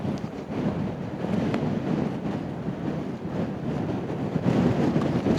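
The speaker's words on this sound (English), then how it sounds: "Yeah, it's breezy, so hopefully you can hear me over the wind." Wind blows hard across a hilltop on Black Hill in the Yorkshire countryside, a constant loud rumbling buffet on the microphone with no other sounds.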